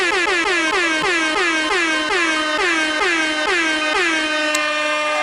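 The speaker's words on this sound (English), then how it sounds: "We got big air horns on the way in." A loud air horn sound effect blares in rapid repeated blasts, a steady rhythmic pattern of piercing honks running continuously and up close with no talking.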